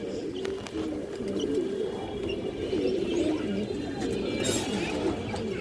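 Mukhshi (mushaldom) pigeons coo continuously in a low, burbling chorus, overlapping calls at moderate level with some faint chirps, and no speech.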